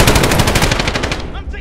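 Loud, close automatic gunfire in Call of Duty Modern Warfare, a rapid burst of shots that trails off into fading echoes, with no talking over it.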